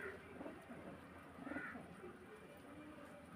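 Black pigeon of the lalsare (kalsara) type with a dark collar, cooing softly at low volume, a few faint murmuring coos rising over a dull background.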